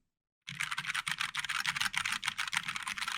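Fingers type quickly on a Keyboard Lab mechanical keyboard, a dense run of crisp clacky keystrokes starting abruptly after a brief silence and continuing at an even, rapid rhythm, close-miked and alone.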